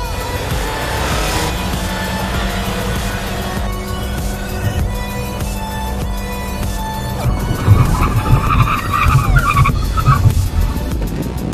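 A car brakes hard with tires skidding during a braking test from speed, stopping in about 40 meters. Steady road and engine noise gives way to a louder, rougher burst of tire scrub in the final seconds.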